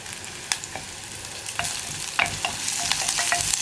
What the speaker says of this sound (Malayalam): കറിവേപ്പിലയും കൂടി ചേർത്ത് നന്നായിട്ട് ഇളക്കി